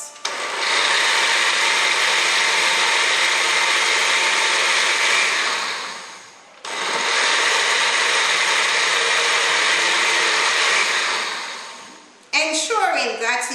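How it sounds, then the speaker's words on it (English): A blender whirs loudly at high speed, blending purslane, ginger and cucumber, in two long, steady runs, dropping briefly between them, then a voice speaks at the end. "Blend at high speed for approximately 45 seconds."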